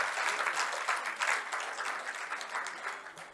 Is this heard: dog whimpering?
no